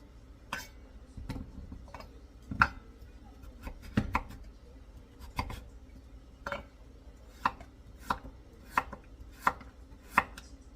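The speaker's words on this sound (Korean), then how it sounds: "비트가 딱딱하니까요. 칼질 하실 때 손 안 다치게 조심하셔야 되겠어요." Sharp knife strokes hitting a cutting board through hard beetroot, irregular but steady, close and crisp with quiet pauses between cuts.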